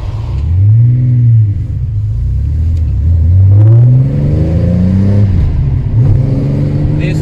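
A Starroad car with its original engine and a replaced carburetor revs loud and close, the engine note rising and falling in several sweeping pulls over a continuous rumbling idle.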